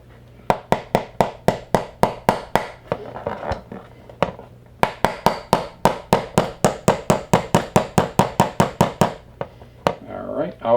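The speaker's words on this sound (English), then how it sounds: "I always like to use a brass hammer." A brass hammer taps a pin into a Hudson H9 pistol frame in rapid, sharp metallic strikes, two long bursts of evenly spaced close knocks separated by a short pause.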